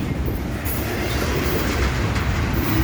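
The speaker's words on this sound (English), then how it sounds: "They got the last train of the day." A long freight train rolls steadily past at Roberts Road in Arrington, Tennessee, close and loud, with continuous rumble, clattering wheels and hissing metallic noise throughout.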